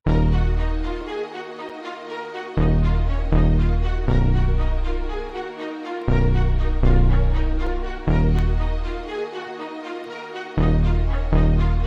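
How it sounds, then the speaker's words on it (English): Deep, heavy Reese bass notes hit in repeating phrases, each swelling and fading, with sustained legato string tones layered above, no voices. "Lastly, I added like this Reese or Pluck bass."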